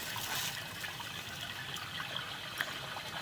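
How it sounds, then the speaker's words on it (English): Water from a toilet flush runs through a residential sewer pipe with about 14 feet of root intrusion, a steady hollow trickle and gurgle with small splashes, heard alone. "somebody just flushed again"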